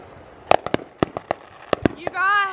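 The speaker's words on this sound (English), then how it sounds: "You guys, there are fireworks." Fireworks popping in sharp, uneven bursts, watched from a car stopped at the roadside, with a run of close loud bangs followed by a voice speaking.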